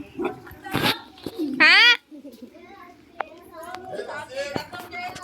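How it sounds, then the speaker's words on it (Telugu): A puppy yelps and gives a few short barks and whimpers close by at a farm house, while people talk and a child chatters around it. "అక్కడ ఒక క్యూట్ పప్పీ ఉంది."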